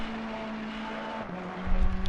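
A red Ferrari GT3 race car at Monza in a sim racing game holds a steady engine drone, its pitch dipping and shifting near the end as a low rumble rises, with no talk over it.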